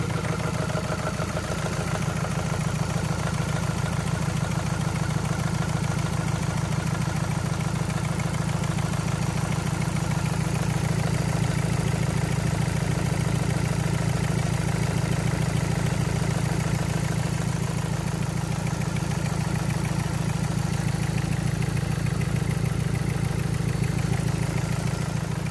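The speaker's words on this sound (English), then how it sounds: "we're just going to start the engine" A diesel engine with a misfire idles steadily up close for a long stretch, a low, constant rumble with a faint irregular roughness in its rhythm.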